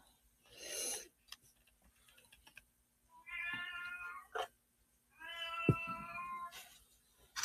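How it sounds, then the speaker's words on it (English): A 17-year-old female cat at home at night gives two drawn-out, unhappy meows with breathy snorts and sniffs between them, close and fairly loud in a quiet room. "Oh, my poor cat. She is not happy."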